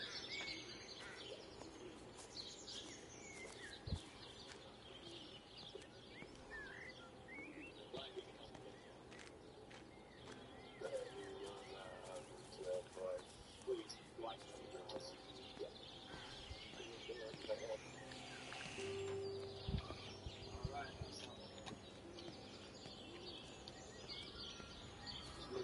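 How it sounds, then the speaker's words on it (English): Doves cooing faintly in the distance outdoors, soft low calls mixed with scattered bird chirps and light wing flutters over a quiet background. "I hear doves. They're pretty."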